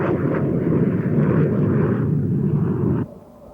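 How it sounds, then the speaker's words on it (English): F-14 and T-38 jet aircraft maneuvering, a loud, dense roar that holds steady and then drops off abruptly near the end. "The F-14 versus the T-38 is a lesson in defensive maneuvering."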